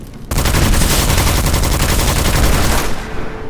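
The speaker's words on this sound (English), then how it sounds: "We have an auto rifle here instead of the revolver that we had." Auto rifle in the video game Witchfire firing a long, loud, continuous burst of fast, evenly spaced shots that starts abruptly and cuts off near the end.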